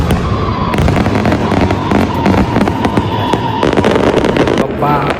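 Fireworks and firecrackers bursting over Aldershot, London: a dense, continuous crackle of sharp pops and bangs, loud and near, with a faint crowd murmur underneath.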